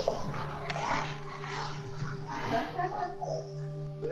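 Dogs whimpering and yipping, with a small puppy among them, low and steady under several people talking over a busy background.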